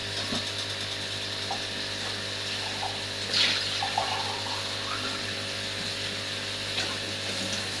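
Water is poured into a pot of peas pulao while it cooks, making a steady, continuous rush of splashing noise that lasts the whole clip, with a faint hum underneath.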